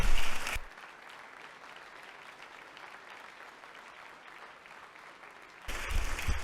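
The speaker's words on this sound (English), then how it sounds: "Let's give them a round of applause and show our appreciation to these heroes." An audience in a state legislative chamber in Georgia applauds first responders, a steady, even patter of many hands held at moderate level for several seconds, with louder sound at the start and the end.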